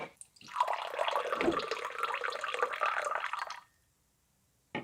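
Still water pours steadily out of a Liquid Death mountain water can for a few seconds with a splashing, gurgling sound, then stops, leaving near silence and a faint final click.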